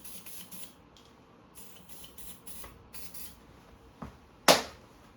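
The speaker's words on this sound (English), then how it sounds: "Got some seafoam here, I'm going to spray it towards the intakes." Seafoam engine cleaner sprayed toward the intakes of a 2017 Yamaha R3 motorcycle: several short, close hissing bursts, ending in one louder, sharper spray.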